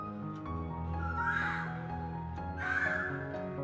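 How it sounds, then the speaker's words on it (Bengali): Two loud, harsh crow caws ring out a second or so apart over a steady background hum, in a village in the early morning. "সকালে পাখির ডাক"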